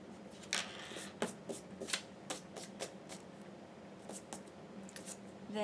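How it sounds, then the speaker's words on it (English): Soft, irregular scuffing and scraping of an eraser rubbing leftover pencil marks off the edges of a paper cutout for card making, close and quiet with a few sharper strokes over a steady low hum. "we'll take a eraser, if you would like, to get the edges of the pencil still left"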